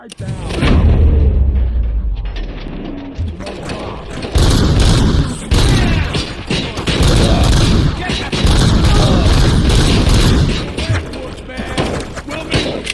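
Near-continuous heavy gunfire and explosions in the video game RoboCop: Rogue City, loud dense bursts of shots and thudding booms running throughout with brief dips.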